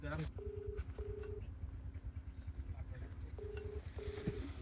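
Ringback tone of an outgoing phone call that nobody picks up, in a comedy sketch: two pairs of short, steady beeps separated by a gap, faint over a constant low background rumble.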